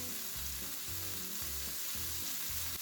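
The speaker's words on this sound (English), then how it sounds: "All you need is a skillet or a hot pan. Sear the burger, leave it alone," A burger sears in a hot skillet, filling the space with a dense, steady frying hiss, while low rhythmic knocks or scrapes recur underneath, with no voices.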